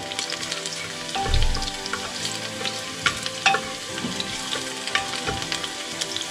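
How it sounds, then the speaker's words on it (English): Ginger and garlic fry with onion in a pan for mutton leg soup, giving a steady, soft sizzle with crackling pops and a few louder spatters and thumps against the pan. "Okay, let's get it a good fry."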